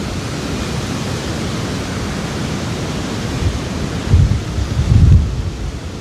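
Strong cyclone wind roars outdoors as a dense, steady rush with low buffeting gusts hitting the microphone, growing heavier toward the end, with no voices.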